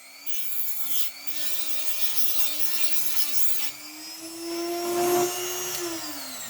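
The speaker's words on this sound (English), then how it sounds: "So I've just ground out that end of that rivet." A rotary grinder cuts away the end of a rivet on a model railway wagon, giving a steady, close, high whine that wavers slightly in pitch and swells louder near the end, with no talking.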